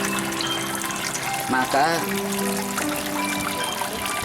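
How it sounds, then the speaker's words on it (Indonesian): Tap water trickles steadily into a silk worm (cacing sutra) rearing tank, a continuous low splashing flow running under a person's speech throughout. "keran air ini akan dimatikan lagi ya teman-teman"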